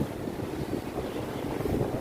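Wind blows by the sea, a steady low roar and rumble of wind buffeting close against the microphone, with the wash of waves mixed in and no speech.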